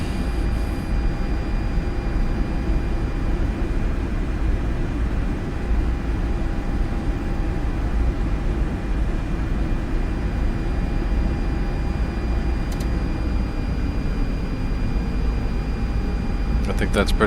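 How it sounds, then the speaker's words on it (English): A British Airways Boeing 787 Dreamliner rolls for takeoff in the X-Plane 12 flight simulator, a steady broadband engine roar holding throughout without variation. "believe that's British Airways taking off"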